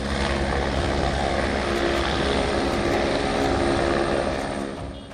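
A rescue helicopter drones steadily overhead during flooding in Bihar, a loud continuous engine and rotor roar that eases off slightly near the end, with no voices.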